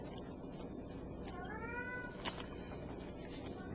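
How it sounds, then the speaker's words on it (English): Indoors in a bedroom, a cat gives a single drawn-out meow, faint and somewhat distant, over a low steady room hum. "I have a cat in the bedroom. You can probably hear her on the microphone."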